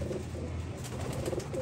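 Royal Teddy pigeons give low, soft cooing close by in a breeding setup, a brief murmur of throaty calls with no talk.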